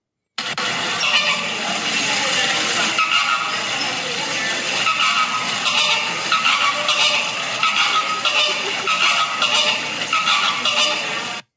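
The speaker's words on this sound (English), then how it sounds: "That is two geese arguing back and forth" Two geese honk loudly and harshly back and forth, their overlapping calls close and nearly continuous for the whole stretch.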